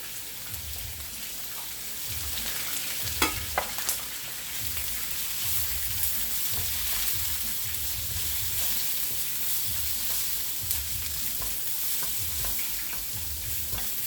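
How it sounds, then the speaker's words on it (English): Onions and celery fry in a pan with a chicken cooking nearby, giving a continuous hiss of sizzling, with regular stirring strokes thumping along beneath it, close and with no voices. "now I'm going with my onions and my celery"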